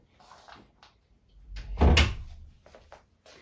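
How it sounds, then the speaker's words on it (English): A door swings shut with a single solid thud, preceded by faint rustling and scraping movement nearby. "I had to shut the door"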